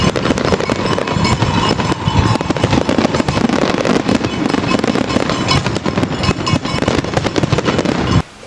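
Fireworks at a race opening ceremony at Clash Daytona: a loud, dense barrage of crackling bursts and sharp pops runs without pause, then stops abruptly at the end, with no voices.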